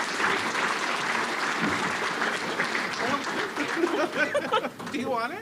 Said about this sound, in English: a round of applause as they come and make it their way.